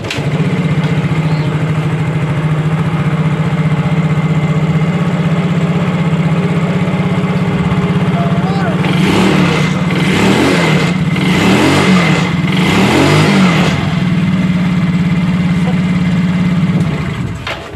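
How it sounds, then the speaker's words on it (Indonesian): A Yamaha Mio GT scooter engine runs steadily and loudly up close, holding a constant hum with a few brief revs partway through. "motor udah nyala"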